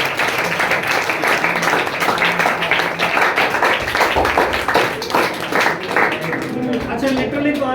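Sustained audience applause at a school writing competition prize event in an academy hall, dense steady clapping from many hands throughout, loud and close, with voices mixed in.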